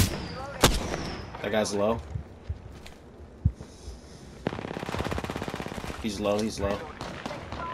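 Rapid automatic gunfire bursts in an online shooter video game, loud and close, breaking in repeatedly between single shots while players talk over it.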